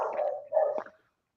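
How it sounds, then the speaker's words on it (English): A single dog barks twice in quick succession, close and clear, then silence. "My dog was barking."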